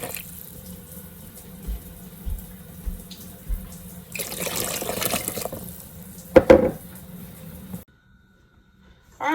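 Water is poured into a mixing bowl in a steady, hissing stream lasting a few seconds, with a splashy clatter near the end before the sound stops, in a 1930s-style home kitchen.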